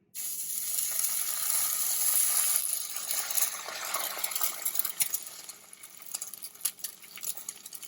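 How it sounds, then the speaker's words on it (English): Two eggs hit a hot, smoking pan and set off a loud, steady sizzle of hissing, crackling oil that keeps going throughout. Scattered pops and light clinks of a utensil rise above it toward the end. "my pan is hot. You see it's smoking. So I'm going to go in with my 2 eggs"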